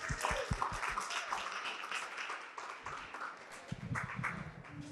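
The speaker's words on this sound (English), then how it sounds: "Everybody give yourself a round of applause." Attendees at an education session break into a round of applause, moderately quiet and uneven clapping with some murmured voices and thumps underneath.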